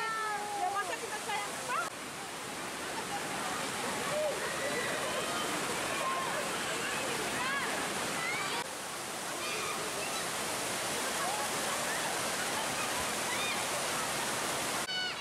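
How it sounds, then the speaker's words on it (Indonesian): A small waterfall at a natural bathing site, Kabura Burana on Buton Island, pours in a constant hissing rush of falling water, with voices faintly audible over it. "air terjun mini"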